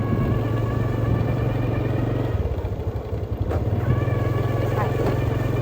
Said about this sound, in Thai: สตาร์ทรถแล้วเราก็ออกไปนอกกัน